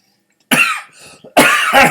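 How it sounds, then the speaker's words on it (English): Two harsh, close coughs from one person, separated by a short raspy breath, then a second hacking burst. "I don't know what it is that I got, but I've been coughing for a few days."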